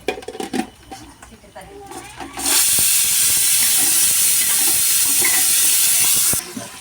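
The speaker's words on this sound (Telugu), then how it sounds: "స్లైసెస్గా చేసుకున్న ఉల్లిగడ్డ, ఎర్రగా అయ్యేంత వరకు వేయించాలి" Loud, steady sizzle of sliced onions and chillies frying in hot oil for biryani bursts in partway through after some clattering and a voice, then continues evenly before cutting off.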